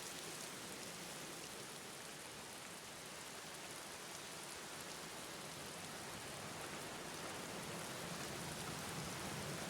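Steady, even hiss of rain falling in the horror adventure game The Black Mirror, dense and constant throughout with no other sounds breaking through.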